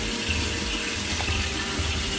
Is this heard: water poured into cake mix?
yes